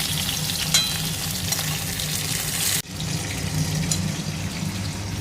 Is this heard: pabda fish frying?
yes